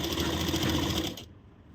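Sewing machine running steadily while stitching the sleeve of a blouse, a loud, continuous close-up whir that stops abruptly near the end.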